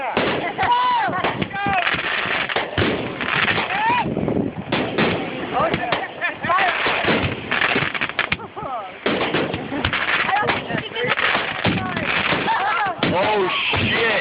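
Fireworks explode right at an outdoor crowd in a loud, nearly continuous barrage of bangs and crackles, while people shout and yell throughout.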